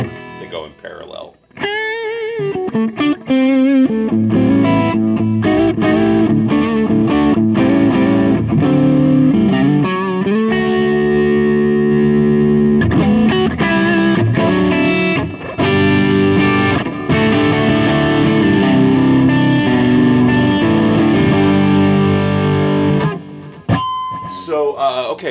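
An electric guitar played through a 44 Magnum power amp pedal in parallel drive, the clean signal blended with the distorted one. It is loud and sustained, with strummed chords and single-note lines, alone with no talking.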